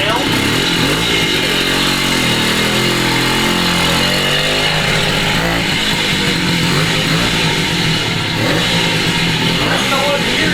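A 1969 Morini 50cc two-stroke Italian mini bike engine runs loud and steady close by, its buzzy note rising and falling as it revs, with voices talking over it.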